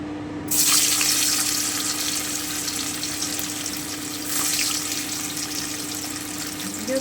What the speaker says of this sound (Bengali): এবারে আমি পনিরগুলোকে খুব হালকা করে ভেজে নিচ্ছি